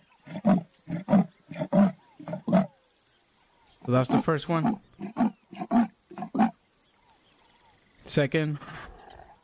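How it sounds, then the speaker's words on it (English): Leopard roars from the video game Animalia come in rhythmic series of rough, grunting calls, loud and close, with a steady high insect-like drone behind them; someone talks briefly between the calls. "But let's try the roars"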